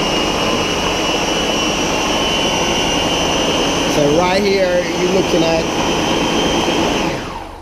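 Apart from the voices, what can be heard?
blender blending fruits for Jamaican fruit cake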